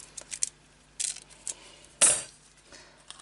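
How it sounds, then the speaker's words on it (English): Paper die-cut pieces pop out of a metal cutting die in a few small, sharp clicks and taps, faint and sparse, with one brighter snap near the middle and quiet gaps between. "Let's pop the rest of the die cut out."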